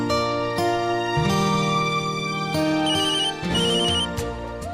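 A melodic phone ringtone plays loudly and continuously, its repeating electronic tones cycling through a short tune with no voices.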